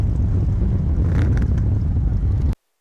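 Motorcycles at the Baldwin bike blessing rev their engines together in a loud, dense, continuous roar close by, with wind buffeting the microphone, before the sound cuts off abruptly.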